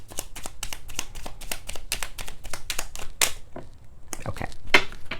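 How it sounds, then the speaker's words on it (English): A deck of tarot cards is shuffled by hand: quick, crisp rhythmic riffles and taps close up, a brief pause, then more shuffling. "One more shuffle."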